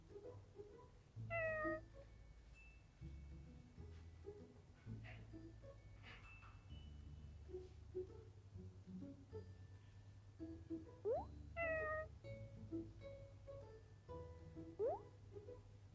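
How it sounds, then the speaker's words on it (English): Soft cat meows from a children's drawing game play a few times, short and high, spread apart over a low, steady hum, with faint clicks and game tones between them. "Meow."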